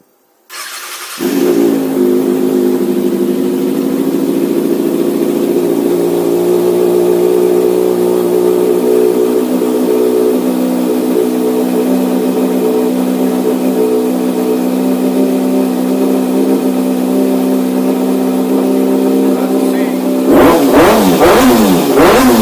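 A 2012 Kawasaki ZX6R motorcycle engine fires up after a brief silence and settles into a loud, steady close-range idle, with a few sharp revving bursts near the end.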